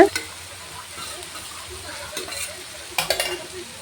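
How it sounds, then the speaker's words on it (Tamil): Vermicelli frying in oil in a pan and being stirred, soft sizzling with faint scraping strokes and a few louder clinks of the spoon against the pan near the end, quiet and close, with no speech. "இந்த மாதிரி சேமியா போட்டு நம்ம கிளறும் போது பார்த்திங்கன்னா கொஞ்ச நேரம் கிளற வேண்டியது வரும்"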